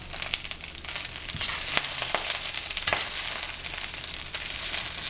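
Six ounces of baby spinach salted in a hot pan, sizzling and crackling steadily as it wilts, with scattered sharper pops and the occasional stir across the surface.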